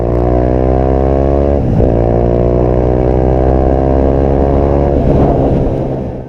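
A BMW G310R motorcycle engine on a test ride drones steadily and loudly at close range, its pitch climbing through gears with brief dips at shifts, with no talk.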